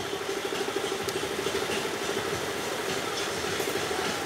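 A motor scooter engine runs steadily at a low idle, a continuous close mechanical drone with no throttle rise audible and no speech.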